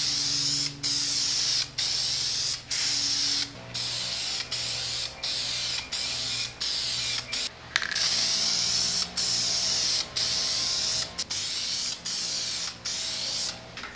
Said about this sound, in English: So make sure you wear a respirator for protection and get to spraying.